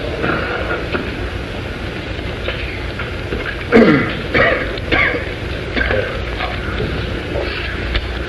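A few rough throat clearings and short coughs break through a steady low background rumble, fairly close.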